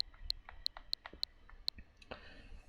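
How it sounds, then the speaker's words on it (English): Sharp, light plastic clicks come from Nintendo Switch buttons, about eight quick taps at irregular intervals, close and fairly quiet against a near-silent background. "You should be able to hear the clicking of my Switch."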